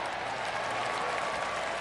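Steady crowd applause and cheering from a PS4 golf video game, a dense continuous wash of clapping at moderate volume with no pauses.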